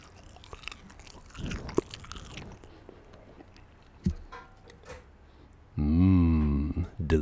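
Crunchy Japanese fried chicken karaage, air-fried, is bitten and chewed close to the mic in loud crisp crunches, followed by a brief hummed sound of enjoyment.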